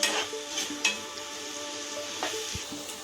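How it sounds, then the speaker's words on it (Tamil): A spoon stirs and sautés masala loosened with a splash of water in a pan for bottle gourd kofta gravy, giving soft scraping and wet sizzling with a few sharper utensil clinks against the pan, close up and with no talking. "இதில் கொஞ்சமாக தண்ணி ஊற்றி மசாலாவோட பச்சை வாசனை போகிற வரைக்கும் வதக்கி விட்டுக்கலாம்"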